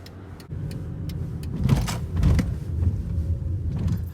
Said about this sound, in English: There's a car that rolled up behind me